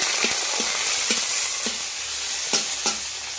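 Tomatoes fry in hot oil with a loud, constant close sizzle broken by several quick scraping stirs of a utensil against the pan.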